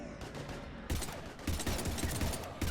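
Rapid gunfire in Mass Effect 3 on Xbox, fought against husks: dense bursts of shots fire continuously throughout, with heavier, louder volleys cutting in partway through.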